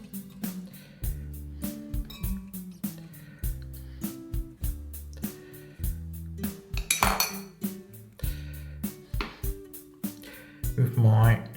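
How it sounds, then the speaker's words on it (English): Cosmetic spatula scooping and spreading shaving soap in a ceramic bowl, repeated scraping and clinking taps in an irregular rhythm, close and clear, with someone talking over it. "With my spatula, it's just a cosmetic spatula they call them. Just spread that around."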